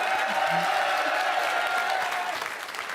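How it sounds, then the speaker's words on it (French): A game show studio audience breaks into close, full applause, a thick continuous clapping that holds steady for a few seconds with faint voices underneath. "Le public vous applaudit déjà, Johan!"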